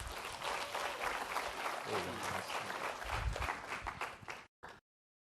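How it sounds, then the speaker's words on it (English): Audience applauding a pitch team at an entrepreneurs' challenge pitch-off, steady dense clapping from a room full of people with faint voices underneath, cutting off abruptly near the end. "Give them a round of applause."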